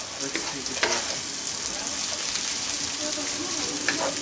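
Cabbage for noodles fries in a pan with a dense, steady sizzle close up, broken by a few scraping stirs, while someone talks faintly over it.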